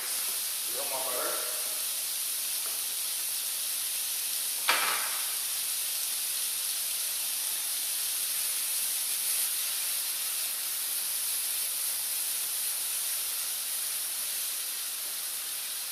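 Apple and pear pieces caramelize in butter in a pan, giving a soft, steady hiss of gentle sizzling throughout, broken by a brief utensil clatter near the middle.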